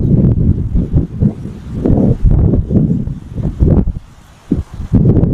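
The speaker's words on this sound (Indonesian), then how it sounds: "Mumpung nyaman nih angin sepoi-sepoi pemandangan indah." Gentle outdoor breeze gusting against the microphone as a low, uneven rumble, loud and steady with brief lulls, heard alone with no voices.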